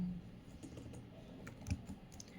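Keys clatter steadily on a computer keyboard while C code is entered for a Cartesian-to-polar conversion program, a quiet run of close, irregular clicks with one slightly louder tap near the middle.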